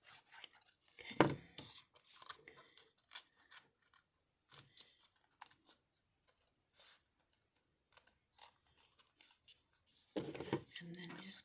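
Scissors make short, quiet snips and clicks as small pieces are cut for a sewing machine built inside an Altoid tin. Soft handling noises come between the cuts.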